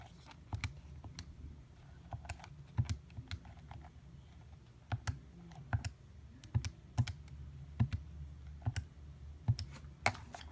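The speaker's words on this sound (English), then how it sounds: "you can type into your calculator" Fingers pressing keys on a calculator keypad, a quiet series of close, sharp taps in an uneven rhythm over a faint low background hum.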